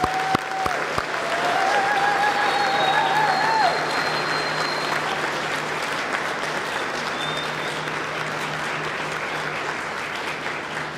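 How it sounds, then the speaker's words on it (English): Audience applause at a 2021 nursing pinning ceremony for new graduates of Northwestern State University, a broad, sustained wash of clapping from a large crowd, strongest early and holding steady, with faint whistles near the start. "Please give them a round of applause."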